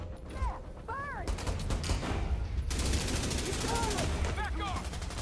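Gunfire in The Division 2 during a firefight against hostile reinforcements, dense rattling bursts running through most of the clip, with chirpy electronic tones and faint voices mixed in.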